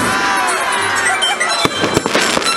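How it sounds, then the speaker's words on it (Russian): A firework fires from a cannon at an outdoor New Year celebration in Severomorsk, a crackling burst followed by sharp pops and bangs, loud and close, with crowd noise beneath. "Да, даже фейерверк в пушке зарядили."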